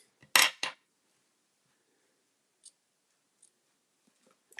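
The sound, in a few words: scissors cutting small ribbons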